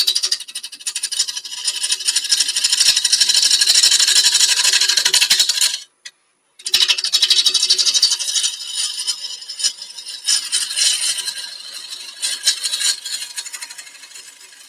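Bowl gouge making a pull cut on spinning wood on a lathe, a loud continuous rasping shear that stops briefly, then resumes and gradually softens toward the end.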